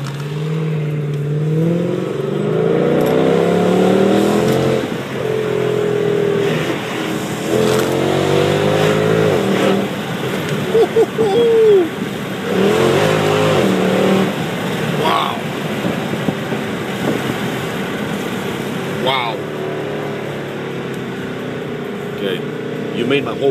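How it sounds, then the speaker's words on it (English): Mercedes AMG car, heard from inside the cabin, accelerating hard: the engine note climbs in repeated rising sweeps between gear changes and stays loud and close, with occupants talking over it. "Yeah, this car's crazy"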